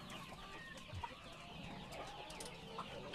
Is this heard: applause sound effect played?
no